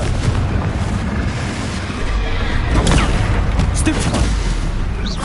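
Confringo spell blasts in the Hogwarts Legacy video game, loud booming explosive impacts over a dense, continuous roar of game sound and music.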